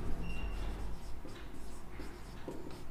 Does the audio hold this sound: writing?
yes